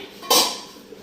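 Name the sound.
lid taken off a water bath canning pot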